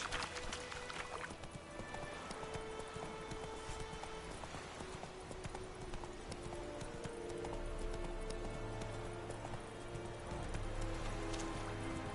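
Geralt's horse Roach trots through The Witcher game world, her hooves clip-clopping in a steady, continuous rhythm amid a busy, rain-like background.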